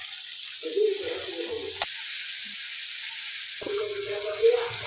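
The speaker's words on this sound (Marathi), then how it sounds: "सोबतच टमाटे पण घालायचे, टमाटे पण परतून घ्यायचे चांगले।" Tomatoes and onions frying in a pan for a hadga flower bhaji, a steady close sizzle and hiss with a few soft stirring knocks.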